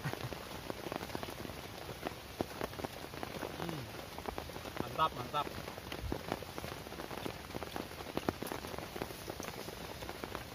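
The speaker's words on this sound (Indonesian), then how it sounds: "Hujan, hujan eh dari pagi." Heavy rain pours steadily in a remote forest, a dense continuous patter of drops close around, while a voice speaks briefly and faintly.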